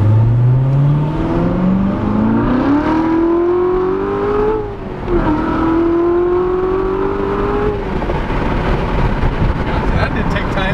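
A 2016 Chevrolet Corvette C7 Z06 engine pulls hard through first and second gear, its note climbing steadily, dipping at a shift near the midpoint, then rising again loud and close from inside the cabin.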